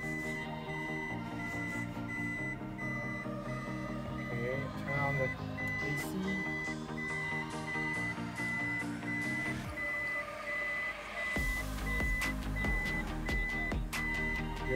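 A vehicle shifted into reverse gear sets off evenly spaced electronic reversing beeps that repeat steadily throughout, with someone talking over them and a burst of louder rumbling noise near the end.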